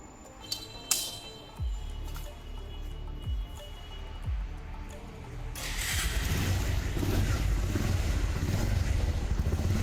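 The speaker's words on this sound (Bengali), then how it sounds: "ইঞ্জিন যেমন দেখা যাচ্ছে তার সাউন্ড কোয়ালিটি কেমন আসে এখন আমরা দেখব এই বাইকটি স্টার্ট করার পর।" A Bajaj Pulsar 150 twin-disc motorcycle starts with a few short cranking bursts, then its engine settles into a steady, loud running rumble close to the microphone, with some wind noise.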